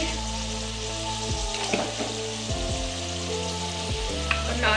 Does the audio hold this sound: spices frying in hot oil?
yes